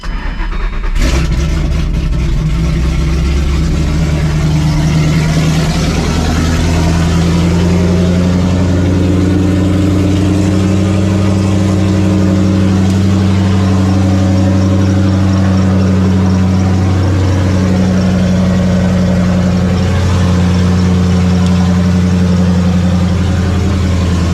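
A Ford Mustang GT 3V engine with a Paxton Novi supercharger starts up with a brief crank and settles into a loud, steady idle, close by with a constant low rumble and faint wavering, and no talking.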